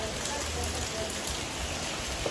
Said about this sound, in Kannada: ನೋಡಿ ಗೈಸ್, ಮಳೆ ಬರ್ತಾಯಿದೆ.